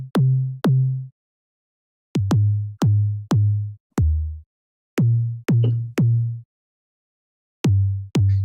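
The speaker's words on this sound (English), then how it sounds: "We're basically trying to make a track that you have to use these tonal kick drums" Tonal kick drum samples, each a punchy thump with a pitched low tail, played in short rhythmic groups of two and three with gaps between, loud and dry.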